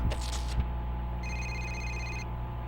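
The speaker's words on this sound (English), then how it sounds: "We got a phone call here." An in-game phone rings in Need for Speed: Most Wanted, a steady electronic ringtone trill over constant engine and road rumble from the racing game.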